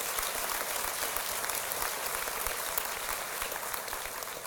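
Steady, dense applause from a large audience at a gala breakfast keynote, loud and continuous for the whole stretch with no voices standing out.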